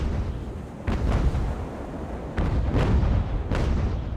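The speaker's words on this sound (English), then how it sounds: "Another fairly inaccurate volley from our enemy there." An enemy ship's cannon volley in Ultimate Admiral: Age of Sail, a naval sailing-era game: a series of deep booming shots, several spaced blasts rumbling over one another, loud and heavy.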